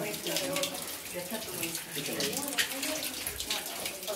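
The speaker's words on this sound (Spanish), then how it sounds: "Se le cae agua." Water falls and drips inside a gold mine in Zaruma, a steady splashing trickle running throughout, close by, with faint voices mixed in.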